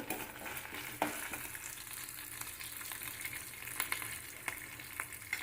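Curry leaves crackle and sizzle in hot oil alongside ginger-garlic paste for a goruchikkudu (cluster bean) fry, a bright continuous hiss marked by a few sharper pops and spoon scrapes, close and without speech.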